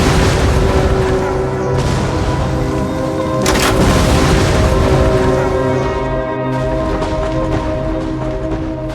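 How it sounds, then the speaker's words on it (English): Dense, continuous roar of heavy cannon booms rolling together, loud and sustained, with a sharp blast standing out midway, from the siege of Constantinople in 1453. "the power of Mehmed's mighty cannons was unleashed"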